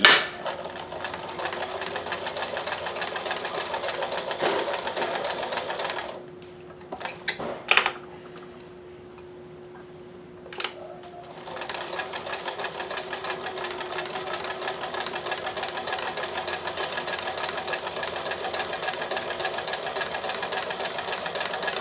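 A sewing machine stitching test seams while a dropped-stitch fault is being diagnosed, a steady mechanical whir that drops away briefly in the middle with a few sharp clicks, then resumes evenly and continues to the end.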